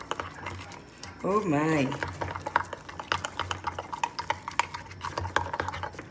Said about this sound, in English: Make sure you get all the dry ingredients nice and wet and mixed up.